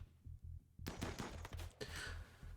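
Gunfire from a firefight in the game RimWorld, rapid bursts of shots crackling over a low rhythmic hum, quiet and compressed, with several clustered volleys after a brief lull.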